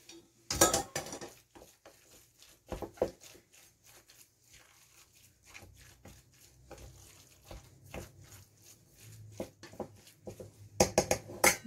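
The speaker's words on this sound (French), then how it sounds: "Je mélange." A utensil stirs chopped mushrooms and lemon juice in a bowl, producing irregular clinks and scrapes, a few sharper knocks among softer rustling, close and fairly quiet with no talking.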